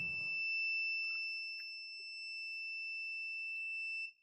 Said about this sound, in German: Nach dem Piepsen nochmal draufdrücken.